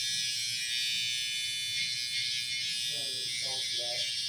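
A Babyliss hair trimmer buzzes steadily and fairly close with a bright electric hum while cutting a fade, and a voice speaks briefly near the end.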